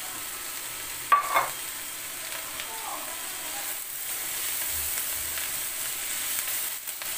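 Rice is stir-fried in a pan with green chilies and crumbled scrambled egg. A steady, fairly faint sizzling hiss runs throughout, with a couple of soft utensil clicks near the start.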